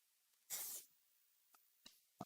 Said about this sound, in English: spray some activator on there.